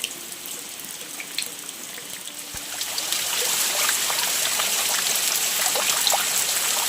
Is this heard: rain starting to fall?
yes